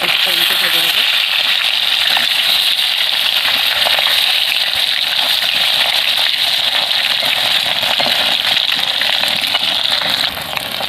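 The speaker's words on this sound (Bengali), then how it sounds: "মাছটা ভেজে নেব" Marinated rohu fish pieces frying in hot oil in a pan, a loud, steady crackling sizzle that holds without pause throughout and eases slightly at the very end.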